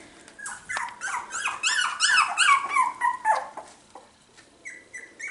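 Four-week-old Cockapoo puppies whimper, yip and growl in a steady run of high, close cries that fade toward a few quieter squeaks.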